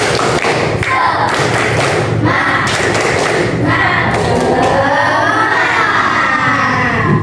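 A classroom of children clap out a rhythmic 'tepuk semangat' cheer, loud and near, with bursts of claps and thuds followed by excited shouting and cheering from the class.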